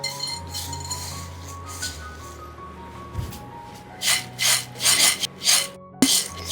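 Yellow and red boondi, small fried gram-flour pearls, being stirred together in a bowl, giving a dry gritty rasping with light clinks that turns into several louder scraping sweeps toward the end, with no voices.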